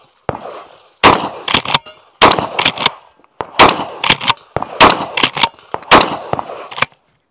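Loud, close gunshots at the Kaliber Shooting Festival 2024, a cowboy-themed shooting event, fired in quick clusters of sharp cracks with short pauses between groups.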